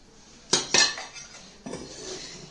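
Metal utensils clink against a bowl as flour and sugar are added for madeleine batter, with two sharp clatters close together, then a softer scrape, close and clear with no voices.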